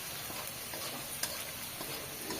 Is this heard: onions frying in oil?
yes